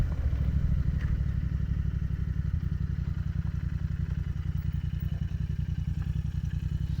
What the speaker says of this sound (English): Let's take a cafe bike down a gravel road.